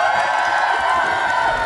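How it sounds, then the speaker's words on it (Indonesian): A crowd at a free food giveaway for Kuali Merah Putih cheers and whoops, with loud mixed voices and shouting, including children, and a little clapping. The sound is brief and close. "1, 2, 3, tepuk tangan."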